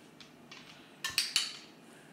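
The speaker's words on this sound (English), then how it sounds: "click every time his paw touches the pot" A dog's paw tapping a metal pot during trick training: three quick, light knocks in a row, close by, with no talk.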